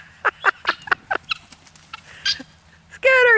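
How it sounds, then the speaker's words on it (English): Guinea fowl give a rapid series of sharp, loud clucking calls close by, about a dozen bursts in a row, followed by a harsher, sustained squawk. "The guineas aren't sure what to make of Deacon"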